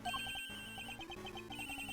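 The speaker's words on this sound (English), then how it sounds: "That's her cell phone." A cell phone rings in the Ace Attorney Investigations 2 video game, a steady, repeating pattern of short electronic tones pulsing over a busy game soundtrack, loud and close.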